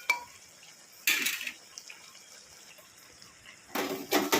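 A pot lid being handled during cooking of chal kumro (ash gourd) with fish heads: a sharp clink at the start, a rattling clatter after a second, and another clattering burst near the end, with quiet simmering between.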